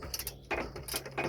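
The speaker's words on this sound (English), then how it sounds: "we got the ratchet in from under here with the extension bar. So just gonna slacken it off" A ratchet on an extension bar slackens a bolt in the rear suspension of a Mini Countryman during a broken coil spring repair, giving a few quick, close clicking bursts of metal mechanism with short pauses between.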